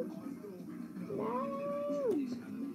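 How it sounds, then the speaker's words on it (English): A pet cat gives a single drawn-out meow that rises and falls over about a second, clear and close against a quiet room. "Oh, sorry, that was my cat."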